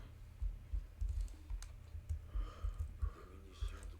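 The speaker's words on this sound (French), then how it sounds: "c'est horrible en plus de jouer avec ce clavier là" Rapid clacking on a computer keyboard while playing a French-language session of a Ghost Recon shooter, with quick irregular key clicks and thumps close to the microphone and some faint breathing.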